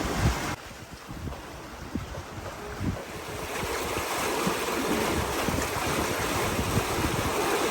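Wind and waves aboard a sailing yacht under way, steady gusty wind rushing across the microphone over broad wash and slosh of water against the hull, growing stronger, with no voices.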